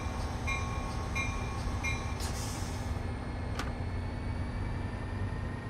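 A full commuter train departing near South San Francisco: a steady, close, low rumble with faint, high, tonal squeals and clicks early on and no voices.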